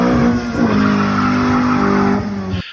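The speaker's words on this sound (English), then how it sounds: "This is my 1994 Honda AMG Ballade." A 1994 Honda AMG Ballade's engine holds a loud, steady high rev close by for a couple of seconds, then cuts off abruptly, with no talking.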